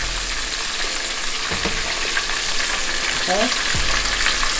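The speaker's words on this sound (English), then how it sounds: "we're only doing this to sear them" Oxtail pieces searing in a hot pan give a loud, steady, close sizzle with a few utensil scrapes and clicks. A brief spoken word comes near the end.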